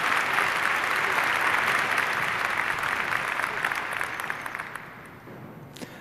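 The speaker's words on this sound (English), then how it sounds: "So please welcome, with a very warm hand of applause, Katinka" Warm applause from a hacker conference audience in a hall, a dense sustained clatter of clapping that gradually tapers off near the end, with no talking.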